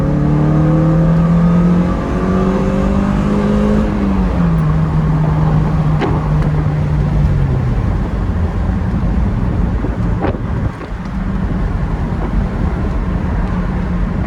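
Toyota MR2 Spyder engine pulling hard in third gear at wide-open throttle, a loud steady drone rising in pitch and then falling at the shift, heard close from inside the car with no talking.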